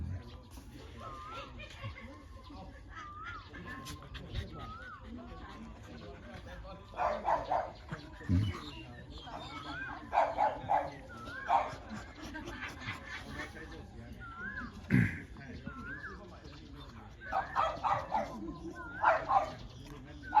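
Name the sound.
dog barking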